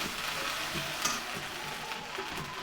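Ginger garlic paste fries with crisp fried onions in hot oil, giving a steady, close sizzle with faint stirring clicks and scrapes and no talk.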